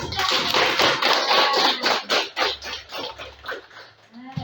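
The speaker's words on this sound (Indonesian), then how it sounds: "Yuk, tepuk tangan buat kalian semua." Students applaud in a classroom, a dense run of quick hand claps that thins out and fades toward the end, loud and close with no talk over it.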